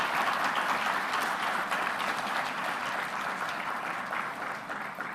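An audience applauds at the launch of a bank's export development fund office in Kigali, Rwanda: loud, dense, sustained clapping from a large crowd in a hall, fading slightly toward the end.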